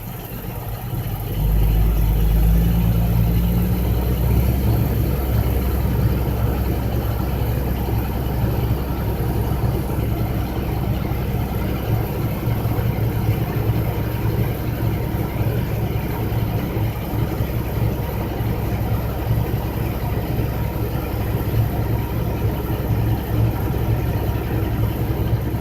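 Vehicle engine held at a raised idle of about 1500 RPM rumbles steadily and close by for a long stretch, with a low, even drone and no talking.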